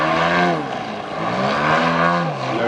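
Large aerobatic model plane at an aerobatics display, its propeller and engine roaring loud and close with a buzzing drone whose pitch swells and dips as the throttle changes, no talk.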